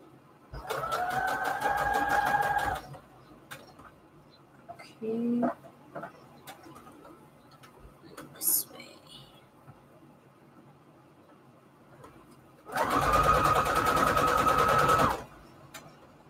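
An electric sewing machine runs in two bursts of a few seconds each while stitching fabric onto index cards, a close whirring hum. A pigeon coos briefly in the quiet gap between them.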